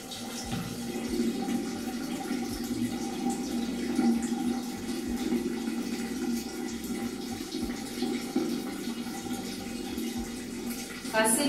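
Steady running water poured during a Shih Tzu's bath, a continuous close splashing wash that lasts throughout with a faint voice underneath.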